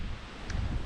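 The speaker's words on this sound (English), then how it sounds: "It's very windy." Steady low rumbling wind buffets the microphone throughout, a dense broadband roar with no voices.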